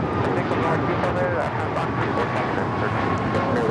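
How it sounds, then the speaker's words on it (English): An Alaska Airlines Boeing 737-800 in a special livery arriving at LAX, its engines a broad steady roar close by, with a voice talking over it. "Here we have a special livery with Alaska Airlines, the honoring those who serve livery on the 737-800, coming in from San Jose, Costa Rica"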